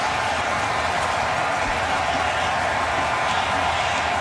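Stadium crowd at the 2018 AFC Championship game roaring in a steady, dense wash of cheering and scattered clapping, loud and sustained throughout with no single voice standing out.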